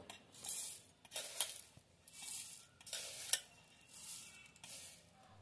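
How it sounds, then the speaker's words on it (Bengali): Puffed rice (muri) crushed by hand in a bowl, a series of soft crackling, rustling bursts in uneven rhythm, close and fairly quiet. "এবার আমি মুড়িটাকে পিষে নেব।"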